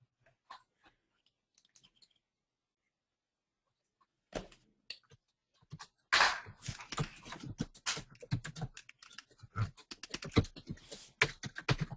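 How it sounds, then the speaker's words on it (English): Keys clatter on a computer keyboard during an online meeting: a few faint scattered clicks, a pause, then a dense burst of rapid, close typing with no speech. "we can hear you typing"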